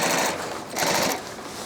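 A sewing machine stitches a drop liner tote bag in a steady, close, continuous whirr that swells slightly midway and carries on at an even pace.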